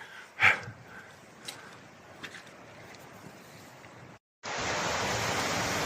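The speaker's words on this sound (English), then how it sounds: "Even more cascades here, waterfalls." A waterfall cascades near Wren Gill in the Lake District. At first there is a soft rush with a few thumps, then after a short break a loud, steady, close roar of falling water fills the rest.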